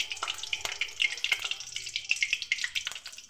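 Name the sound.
green chillies frying in hot oil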